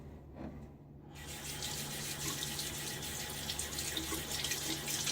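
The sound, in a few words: water running while rinsing shaving lather off fingers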